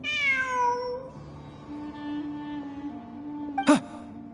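A cat in the video game Genshin Impact lets out a single drawn-out falling meow near the start, followed by quiet ambience and a short sharp sound near the end.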